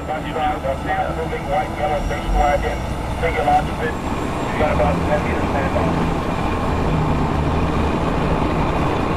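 An armored vehicle rumbles along in a convoy from Kandahar Airfield to Spin Boldak, heard from inside the cramped cabin as a continuous low drone with rattling and mechanical hum, loud and unbroken throughout.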